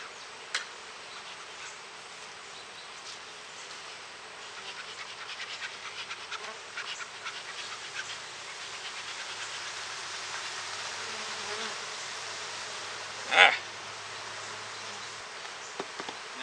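Honey bees buzz around an open beehive while a slatted rack is fitted, a dense steady drone with one louder bee passing close near the end.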